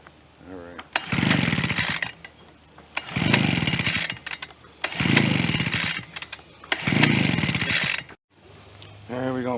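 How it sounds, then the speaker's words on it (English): A new 2-stroke VEHPRO leaf blower engine is pulled over repeatedly, giving four loud sputtering bursts of about a second each with pauses between, then a brief catch at the end. "First time firing up a machine, a 2-stroke"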